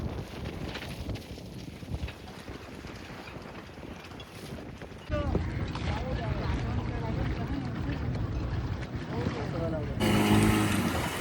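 Boat on open water during a yacht trip off Mumbai, with steady broadband engine and wash rumble plus wind buffeting the microphone, growing louder midway, while people talk over it.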